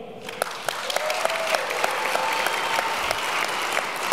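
Debate audience applauding to vote for Kevin O'Leary's side in a capitalism debate with John Mackey: a steady, dense wash of many hands clapping at moderate volume throughout, with sharper individual claps standing out.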